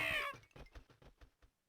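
A cartoon cat in the Professor Layton game gives a high, bright meow, followed by a quick series of short, soft rhythmic thumps.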